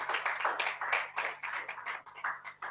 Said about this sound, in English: Can we give our speaker a round of applause once again?